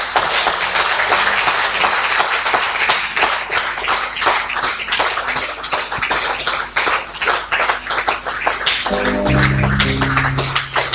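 A church congregation claps and cheers in praise, a dense, steady wash of many hands from start to finish, with musical tones rising underneath near the end.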